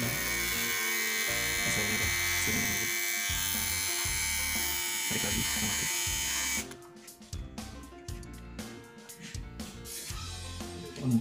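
A Shengfa mustache and beard electric shaver runs with a steady, close motor buzz, cutting out partway into uneven rattling handling noises.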